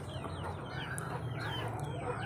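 Chickens in a backyard coop built of two boxes at a village house, soft continuous clucking and chirping over a low steady hum, fairly faint, no talk.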